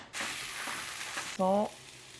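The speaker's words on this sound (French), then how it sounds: "Ton petit filet d'huile d'olive. Petit filet. Mettre directement nos girolles dedans." Chanterelle mushrooms fry in a thin drizzle of olive oil in a pan, giving a steady close sizzle, with a brief louder hiss and rustle near the end as they are stirred or tossed.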